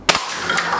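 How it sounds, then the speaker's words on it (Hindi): A small toy AK-47 air rifle fires a single sharp, dry crack up close, followed by a short hissing tail and a fainter second pop. "चलिए इसे फायर करके दिखाते हैं कैसे ये फायर होता है।"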